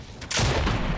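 A brief burst of rapid gunfire from the Fortnite video game erupts after a short quiet moment and holds as a dense, loud rattle for the rest of the second.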